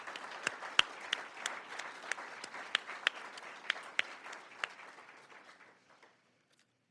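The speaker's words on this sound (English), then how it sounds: "Let's give another round of applause for them," An audience indoors at a welcoming event gives a round of applause, with dense clapping and a few sharp individual claps standing out, tapering off and falling quiet near the end.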